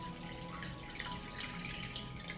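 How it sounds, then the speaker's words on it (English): Water is poured into a cooking pot holding glass jars on a cloth, giving a faint, steady trickling wash with no talk. "I pour water up to the height of the lid."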